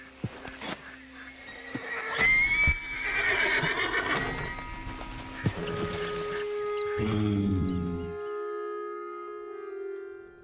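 A horse whinnies loudly amid hoof clatter and scuffling in Red Dead Redemption 2, then a long low drawn-out tone follows as the commotion settles.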